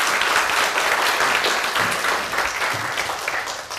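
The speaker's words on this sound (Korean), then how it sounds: "큰 박수 부탁드립니다." An audience in a lecture hall gives sustained applause after a special lecture on the fourth industrial revolution and finance, dense clapping throughout that fades slightly at the end.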